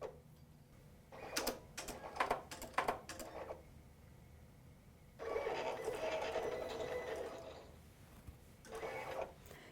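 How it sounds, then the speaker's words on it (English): A Silhouette vinyl cutting machine working through a sheet of vinyl, with a series of quick motor buzzes and clicks and then a longer whirring pass, fairly quiet and heard alone. "Sounds like our machine just finished cutting."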